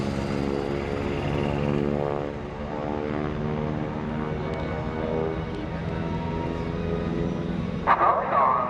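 A propeller airplane engine runs up to 2,250 RPM at a military airshow, a loud, steady, close droning hum that holds level throughout, with a brief crackle near the end.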